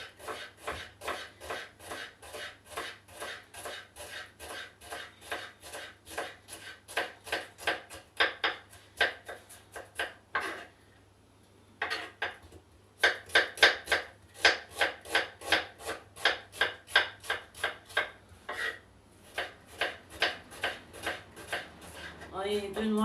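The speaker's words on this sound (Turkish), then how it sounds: "Şöyle incecik soğanlarımı doğruyorum." A knife chops onions thinly on a cutting board in a home kitchen, in a quick, steady series of crisp close taps with a brief pause midway.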